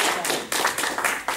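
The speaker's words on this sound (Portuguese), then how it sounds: "dá uma salva de palmas ao Senhor." A church congregation claps together in praise, a dense, continuous patter of many hands with loose rhythmic surges, heard close and filling the room.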